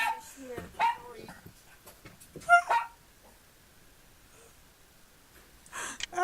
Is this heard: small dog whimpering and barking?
yes